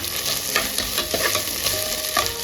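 Ginger garlic paste and carrots frying in a pan for coconut milk biryani, a loud close sizzle with rhythmic stirring scrapes and no talking.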